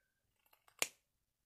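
A metal head pin for earrings is snipped with wire cutters, giving one sharp close click after a few faint light taps, then quiet.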